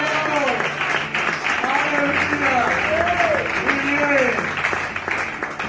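A church congregation applauding during a sermon, a sustained wash of clapping under a voice that keeps speaking over it.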